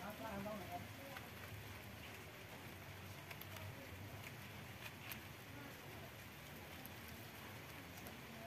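Steady rain falls outdoors around potted bonsai trees, a continuous dense hiss of drops at even loudness throughout, with no voices over it.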